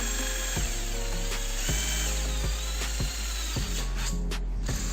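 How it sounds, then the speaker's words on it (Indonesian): A cheap Mailtank SH 216 cordless drill with a small bit whirs steadily up close, with regular clicking catches as it works into 1 mm steel. "Sekarang kita coba untuk melakukan pengeboran di media besi dengan tebal 1 mm."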